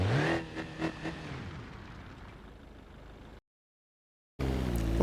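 The engine of a Cherrier Tograc, a stronger version than the three-cylinder base model, strains and revs while climbing a hill off road in BeamNG Drive. It sounds loud and close, cuts out briefly, then returns at full volume.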